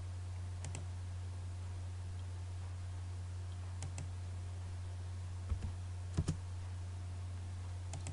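A computer mouse is right-clicked a few times while working in AutoCAD. The faint, sharp clicks are scattered and isolated over a steady electrical hum.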